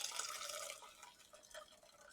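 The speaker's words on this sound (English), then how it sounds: "We're going to add our nice coconut milk" Coconut milk pouring into a pot of flavored water for Jamaican cornmeal porridge, a soft, faint liquid trickle and drip that fades after the first moments.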